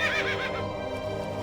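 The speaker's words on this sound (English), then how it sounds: "Wow, these sure are good horses." Horse in World of Warcraft neighing loudly up close, a single wavering whinny over a steady game background with no talk.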